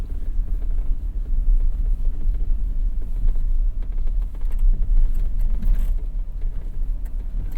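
A Chevy Silverado EV Trail Boss electric pickup tows almost 10,000 pounds up a hill, giving a loud, steady low rumble of road and drivetrain noise without talk.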